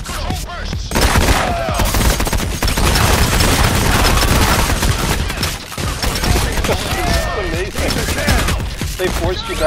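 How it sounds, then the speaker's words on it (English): Dense, loud gunfire from the video game Payday The Heist crackles in continuous volleys and bursts, chaotic and close, with voices shouting faintly beneath the shooting. "Shooting"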